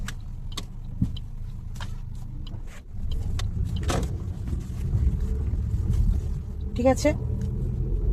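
A car's engine rumbles low in first gear along a narrow neighbourhood lane, steady and close, with scattered clicks and knocks and someone speaking briefly over it.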